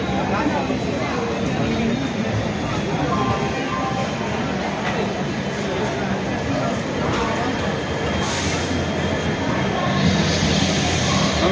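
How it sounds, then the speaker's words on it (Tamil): A passenger train pulls out of Thanjavur railway station on a rainy day, giving a loud, close, continuous rumble and rattle from inside the carriage, with muffled voices mixed into the noise. "நம் ரயில் தஞ்சை ரயில் நிலையத்தை விட்டு புறப்பட்டு விட்டது."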